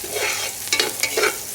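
Garlic, onion and ginger sauté in a pan for igado, a loud close sizzle broken by several sharp scraping stirs of a utensil against the pan.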